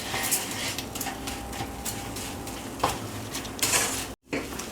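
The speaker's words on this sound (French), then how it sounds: "je vais à présent ajouter mon riz. Et donc bien le mélanger." Rice being stirred into paella in a pan, with soft scraping and clinking of a utensil against the pan, steady and close, plus a brief sharper clatter near the end.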